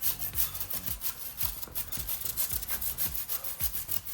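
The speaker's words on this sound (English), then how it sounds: "I decided to use this small nylon brush that I've got" A small nylon brush scrubs an intercooler logo in quick, steady back-and-forth strokes. The rubbing repeats about twice a second, close and fairly quiet, with no voices.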